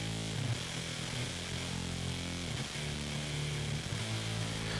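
A raw electric guitar run through Reactor for an intro, harsh and distorted with a buzzy, top-heavy tone, playing a continuous riff with a few brief dips, loud and steady with no voices.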